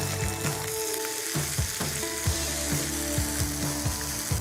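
Meat browns in oil in a wide paella pan for paella valenciana, giving a steady close sizzle broken by repeated clinks and scrapes of a utensil turning the pieces, with nobody talking.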